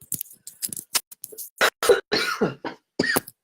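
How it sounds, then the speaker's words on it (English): Someone coughs repeatedly in short, sharp bursts up close, a series of harsh coughs with brief pauses between them. "got a cough, of course, as soon as I tried"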